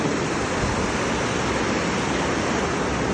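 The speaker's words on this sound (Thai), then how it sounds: "น้ำตกน้ำโตนบ้านหัวแคน" Waterfall at Ban Hua Khaen by Huai Khaen rapids, a steady, dense rush of falling water filling the whole clip at close range, with no voices.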